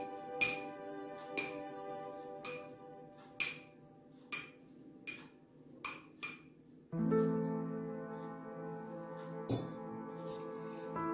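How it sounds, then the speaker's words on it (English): A spoon stirs hot water with hibiscus flowers in a glass, giving a series of sharp, ringing clinks at a steady pace, followed by a softer swirling rattle with an occasional tap, close and clear. "And with the help of the spoon, we stir it."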